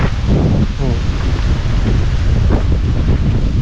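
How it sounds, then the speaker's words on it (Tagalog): Strong wind roars and buffets the microphone continuously, a loud, rushing blast with faint rustling underneath, outdoors among Indian mango trees. "Ang lakas ng hangin."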